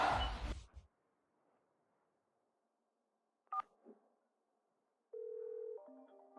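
Telephone keypad tones as a number is dialed, a short burst of steady beeps after a quiet stretch, preceded by a brief noisy rustle and a faint click.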